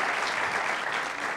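Dense, steady applause from a television studio audience in a 2000 Turkish talk show, a continuous wash of many hands clapping with no talk.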